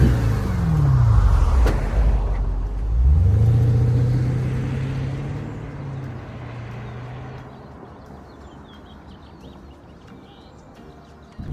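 Mercedes grand tourer engine revving loudly twice, rising and falling, then settling into a steady smooth idle that fades quieter, heard alone without talk.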